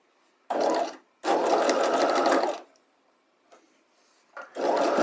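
A sewing machine stitches a fabric dart, running in three bursts: a short run, a longer steady run, then a final run starting near the end, with pauses between and faint handling noise in the gaps.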